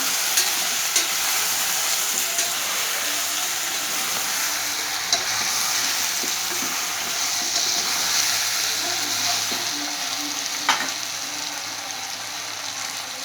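Roughly chopped ingredients for a colocasia gravy fry in a pan, giving a continuous bright sizzle with occasional faint clinks of stirring, steady and close, with no voices.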